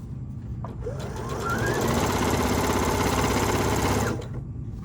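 A sewing machine stitches a fabric bucket hat in one continuous run, whirring close and loud at a steady, rapid pace before slowing and stopping.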